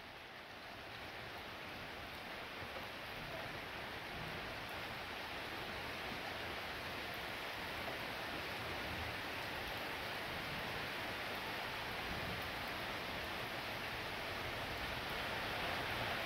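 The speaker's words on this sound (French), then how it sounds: "Forte pluie qui commence." Heavy rain begins to fall, a steady dense hiss of drops filling the scene and slowly building in strength, with no voices heard.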